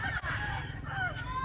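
A fighting rooster, black-bodied with a little red on top, crows in a strained, drawn-out call, fairly close, over a low background rumble.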